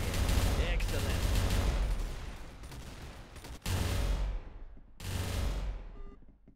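Rapid automatic gunfire from the Roblox shooter game Arsenal, with loud sustained bursts broken by short pauses and one final burst that trails off.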